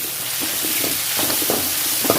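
Chopped tomato being stirred into green masala frying in a pan, a close continuous sizzle with repeated scraping stirs of a spoon, no voices.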